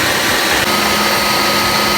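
A food processor grinds 350 grams of chocolate chips, producing a loud, continuous, close-up whirring roar that holds steady for the whole moment.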